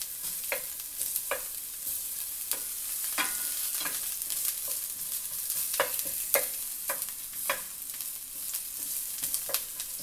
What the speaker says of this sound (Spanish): voy a empezar a acitronar la cebolla